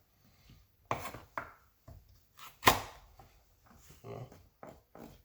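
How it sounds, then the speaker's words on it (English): A knife chops carrot into bite-size pieces for Jamaican stew peas, with separate close, sharp thunks on a board, irregularly spaced and one noticeably louder strike midway. "carrot, I'm trying to get them like nice size so you can still get a bite out of it. So I cut it like that."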